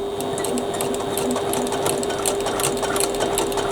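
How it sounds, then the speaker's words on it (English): A sewing machine runs steadily, stitching a bag seam at close range, with a continuous fast mechanical whir and rapid needle clatter and no talking. "We're going to start stitching at 1/4 inch seam allowance, then go out to 1/2 inch."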